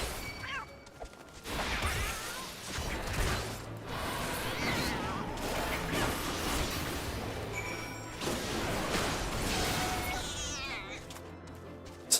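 Bat-cat creatures in the fantasy role-playing game Final Fantasy XIV meowing repeatedly amid combat whooshes and thwacks, moderately loud, with someone talking over parts of it.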